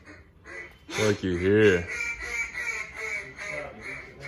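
A duck call blown in a duck call room at a warehouse gives one loud, buzzy quack sequence, close and brief, with voices chatting around it.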